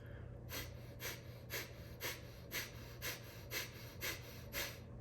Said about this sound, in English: Close your eyes and do 9 Kapalabhati breaths.